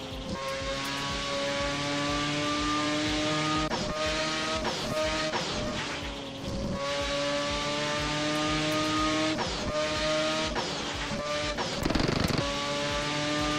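Mazda RX-7 racing in a video game: a steady, loud engine drone with sustained tonal harmonics, a few brief shifts and dips as the revs change, heard alone without talk.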